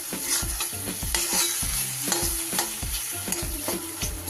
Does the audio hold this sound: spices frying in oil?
yes